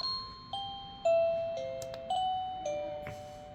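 A wireless caregiver pager receiver plays a bright electronic chime, a sequence of about six clear descending and rising tones, each ringing out and decaying, loud and close with no talking.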